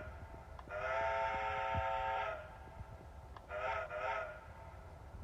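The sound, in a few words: horn of Lionel Lion Chief 2-8-0 ATSF model locomotive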